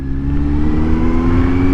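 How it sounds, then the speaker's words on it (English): An army truck engine runs loud and close, a deep, steady, rumbling drone with a strong low hum that holds without change. "That's an army truck."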